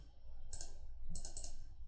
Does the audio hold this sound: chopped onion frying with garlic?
no